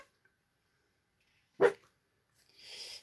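A small dog gives a single short, sharp bark in an otherwise quiet indoor room, followed by a faint rustle of paper.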